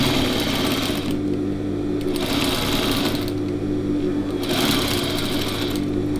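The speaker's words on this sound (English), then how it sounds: "We're just going to be stitching at a 1/4 inch on each side and then flipping it on to the other side." A sewing machine stitches a draw cord slider for a backpack made from an upcycled rug, humming continuously and loudly up close, its whirring rising and easing in a slow repeating pulse.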